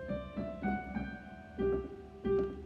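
A piano plays a short beginner phrase from a Bach classics book, starting on E and reaching a low G: a few clear, separate notes in an even, gentle rhythm, close and moderately soft, with no voice.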